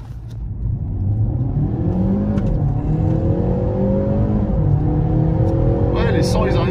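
Peugeot 508 PSE hybrid sedan accelerating hard from a standstill to 100 km/h, heard from inside the cabin as a loud, steady engine and electric whir rising in pitch through gear changes, with occupants talking briefly at the end.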